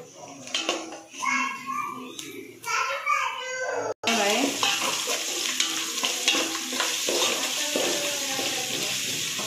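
Chopped onion frying in a pan is stirred with a utensil, giving scraping and sizzling that grows into a dense, steady crackle, with someone talking over the first few seconds.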